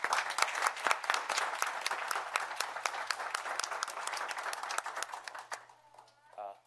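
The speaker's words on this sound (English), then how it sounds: "Please give Angela a round of applause" A town board meeting audience gives a round of applause for an honoree: steady, dense clapping from a small crowd for several seconds, fading out toward the end.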